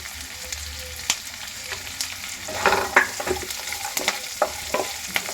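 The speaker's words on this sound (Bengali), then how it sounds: "গাজরটা ভালো করে ভেজে নেব" Finely chopped carrot frying in a pan for semolina upma, with a gentle ongoing sizzle and scattered clicks and scrapes of stirring, close but fairly quiet, no voices.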